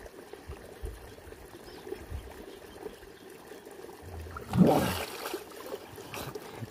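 Water running and splashing through a drain in a steady outdoor wash, with a louder gush of pouring water partway through, then settling back to a low flow.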